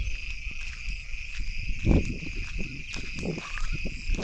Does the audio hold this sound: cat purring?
no